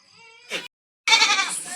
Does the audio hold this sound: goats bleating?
yes